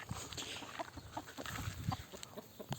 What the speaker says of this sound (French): au total, j'ai une dizaine de poules, si on compte les poussins et les poules